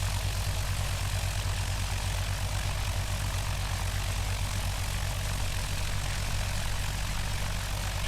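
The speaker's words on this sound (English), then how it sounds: "we're just gonna taxi around for a minute" A propeller aircraft engine drones steadily near idle while the plane taxis on the ground in the flight simulator X-Plane 10. The loud, unbroken hum holds with a low rumble and no talk over it.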